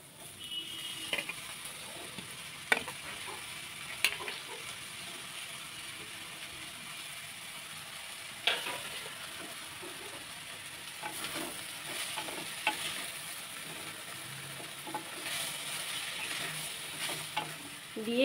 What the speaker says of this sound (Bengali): এবার আমার ডালটা মোটামুটি এখানে ভাজা হয়ে গেছে, একটু ভেজে নিলাম ডালটা